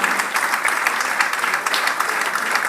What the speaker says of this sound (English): please put your hands together for a round of applause for the 20-meter pistol women silver medal winner